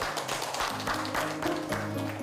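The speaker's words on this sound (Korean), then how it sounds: "다시 큰 박수 부탁드리도록 하겠습니다" An audience claps together after a health lecture on the colon on a Korean TV show, dense applause sustained evenly throughout.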